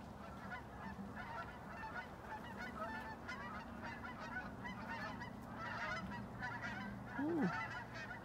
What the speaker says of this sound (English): Here are the geese.